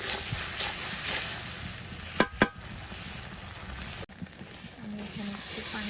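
Spices sizzle and fry in a hot pan of oil with ginger-garlic paste, a steady close hiss broken by a couple of sharp clicks.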